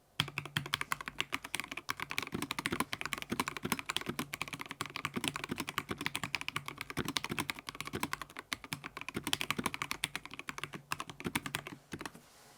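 Rapid, steady typing on a Montech MKey Darkness mechanical keyboard, dense clacking keystrokes close up for the whole stretch, with no talking.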